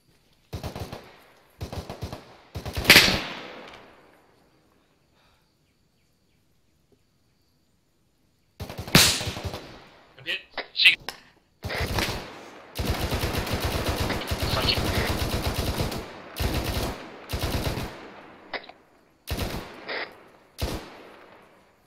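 A military video game firefight with loud bursts of machine-gun and rifle fire in clusters, then a long silence, then sustained heavy automatic fire and scattered shots.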